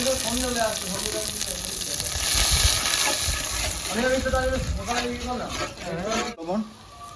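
Dry red chillies, whole cumin, green chilli and ginger paste sizzle in hot oil, a steady frying hiss that runs throughout beneath a voice talking.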